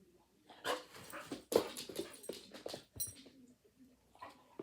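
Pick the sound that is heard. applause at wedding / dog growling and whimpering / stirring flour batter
dog growling and whimpering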